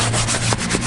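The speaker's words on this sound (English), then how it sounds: "I am using a brush and just do nice circular motions to pick up any of that dirt" A brush scrubs car leather upholstery in circular motions, a close, steady scratchy rubbing with slight surges as the strokes turn, alone and without a break.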